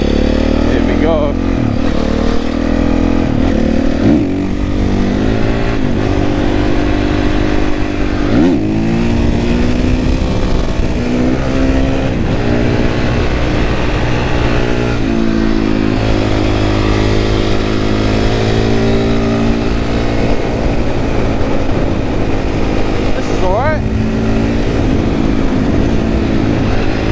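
Honda CRF450R supermoto motorcycle ridden hard along a twisty road, its single-cylinder engine loud and close throughout, revving up and down through gear changes with brief throttle-offs between bursts.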